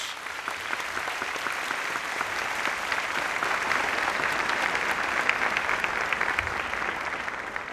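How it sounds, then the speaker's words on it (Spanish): A TV studio audience gives loud, steady applause to welcome young guests, the dense clapping holding at an even level throughout without any talk over it. "queremos con este fuerte aplauso dar la bienvenida a 10 jóvenes talentosos"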